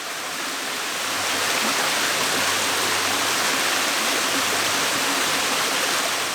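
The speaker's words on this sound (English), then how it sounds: "I can see basically the entire waterfall from here now" A multi-stage waterfall on a camping trip roars as a steady, loud wash of falling water, close and continuous with no voices.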